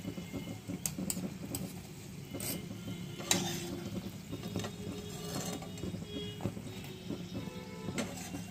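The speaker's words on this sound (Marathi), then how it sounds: "एक बाजू खमंग झाल्यानंतर दुसरी बाजू खमंग तळून घ्या।" Sweet modak dumplings frying in hot oil and being turned to brown both sides: a steady, fairly quiet sizzle with scattered clicks and light clinks from a utensil, no voices.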